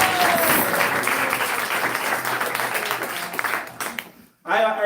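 Audience at a spiritual class in Ljubljana applauding, dense, loud clapping for about four seconds that fades out, followed by a speaking voice at the end.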